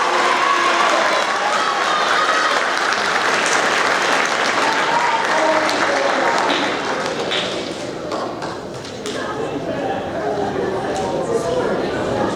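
Continuous, loud clapping from a crowd at an eighth-grade awards ceremony holds steady for over ten seconds, with murmuring voices mixed in beneath the applause.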